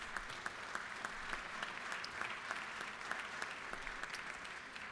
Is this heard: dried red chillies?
no